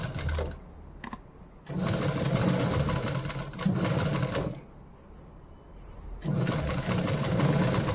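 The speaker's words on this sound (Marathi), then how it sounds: "आपण शिलाई मारून घेणार" A sewing machine stitches a blouse in close, loud runs, with several bursts of steady whirring separated by brief quiet pauses.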